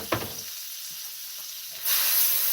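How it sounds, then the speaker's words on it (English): Peppers and onions stir-fry in a wok with a steady close hiss of sizzling, a few soft clatters at the start, then the sizzle swells suddenly brighter and louder for the final stretch. "I'm just going to saute this in my wok for a few minutes until my peppers are half cooked"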